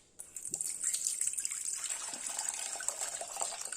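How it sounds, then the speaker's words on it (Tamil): Water from a freshly cut tender coconut pours and trickles into a vessel, a steady close splashing stream with small drips, running alone without any talk. "இப்ப நம்ம இளநீர்ல இருந்து தண்ணி எடுப்போம்"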